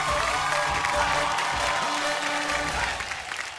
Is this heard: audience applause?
yes